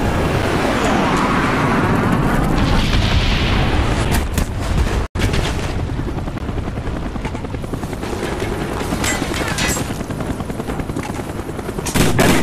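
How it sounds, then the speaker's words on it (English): A napalm strike in the Call of Duty: Black Ops video game on PC during a free-for-all match: a continuous loud roaring rumble of aircraft and fire that stays dense throughout, broken by one brief dropout. "Napalm strike inbound."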